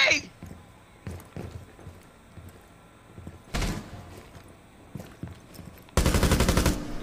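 Gunfire in a Rainbow Six Siege match: scattered single shots and a short burst, then a sustained loud automatic volley at the end, with bits of talk between the shots.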